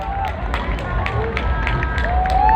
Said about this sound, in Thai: ขอเสียงปรบมือกับ 5 คนสุดท้ายของเราด้วยนะครับ